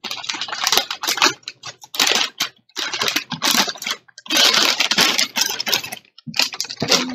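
Unpacking a boxed MSI GeForce GTX 1050 Ti Gaming X produces close, crisp crinkling and rustling of cardboard and plastic wrap in bursts, broken by short pauses.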